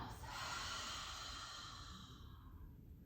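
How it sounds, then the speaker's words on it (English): A slow, deep breath drawn in through the nose and then let out in a long mouth exhale during a calming yoga session, a soft airy hiss that swells and fades gradually, close and alone. "take a nice deep breath through the nose, and then long exhale out of your mouth"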